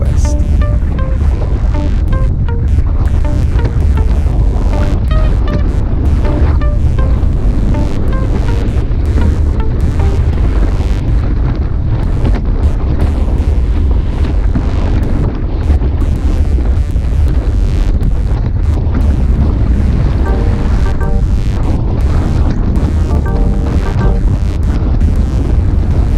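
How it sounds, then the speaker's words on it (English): Strong wind buffets the microphone during a group bike ride, a loud, continuous roaring rush that never lets up, gusting from the southwest and west. "The wind is blowing from the southwest and is gusting from the west periodically."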